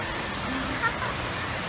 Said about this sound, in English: it really, really rains.